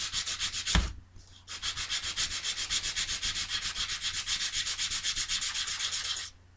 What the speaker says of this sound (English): Sorry about the sound of this. I actually sanded this quite a bit now.